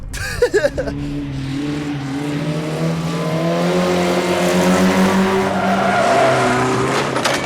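A banger race car with no windows driving on a track, its engine droning loudly and rising in pitch with some tyre squeal, close and continuous throughout.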